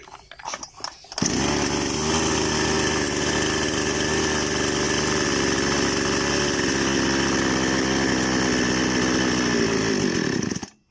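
A small chainsaw engine runs with a steady, loud buzzing drone after a few rough starting sputters, then winds down and stalls abruptly at the end.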